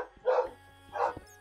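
A dog in Minecraft gives two distinct barks about half a second apart, close and clear over a quiet background.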